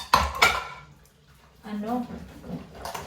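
Dishes, pots and pans being washed by hand, with two sharp clatters near the start followed by softer clinks and water sounds, under someone talking.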